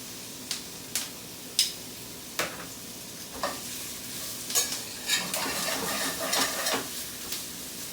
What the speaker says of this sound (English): It's important that this sweating process happen because if you don't sweat out the shallots